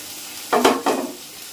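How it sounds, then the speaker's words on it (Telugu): Thinly sliced onions and green chilies drop into hot oil, giving two short bursts of sizzle and scraping close by before the pan settles to a faint hiss. "సన్నగా తరుక్కున్న ఈ ఉల్లిపాయలు కూడా ఇందులో వేసుకొని ఫ్రై చేస్తున్నాం"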